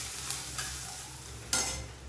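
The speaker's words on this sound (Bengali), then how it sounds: "পেঁয়াজটা ভালো করে ভেজে নেব।" Chopped onions and cumin seeds fry in oil for a chicken curry, giving a soft, steady sizzle. A few sharp stirring scrapes sound close by, with no talk.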